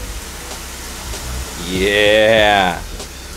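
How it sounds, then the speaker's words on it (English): Two cups of veggie broth hit a hot pan of sautéed vegetables, giving a burst of hissing sizzle and steam that swells for about a second and then fades, with a brief spoken word at the start. "we're going to deglaze the pan by adding 2 cups of veggie broth up in here"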